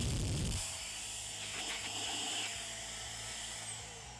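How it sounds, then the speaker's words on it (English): An air duster and vacuum combo runs on suction, giving a steady high-pitched whirring drone after a brief low thump at switch-on, close and continuous with no talk. "That is really good suction."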